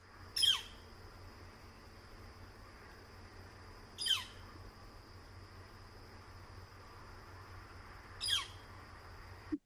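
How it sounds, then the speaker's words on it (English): A squeaky single-note call of a yellow-shafted northern flicker repeats three times at about four-second intervals, each one brief and moderately distant over a steady, faint outdoor background hiss. "This is kind of a squeaky northern flicker."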